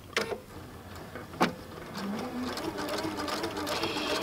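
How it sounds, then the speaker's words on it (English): A sewing machine with a double needle and decorative trim ribbon foot stitches ribbon, a couple of sharp clunks as it starts, then a steady whirring run building through the end, close up with no talk. "And then we're just gonna start."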